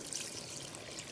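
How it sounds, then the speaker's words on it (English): Homemade seafood stock made from water, shrimp and lobster shells, onions and garlic being poured into a pot for cacciucco, a short, soft, continuous liquid pour heard close without talking. "I'm going to add in a cup of this seafood stock I made last week."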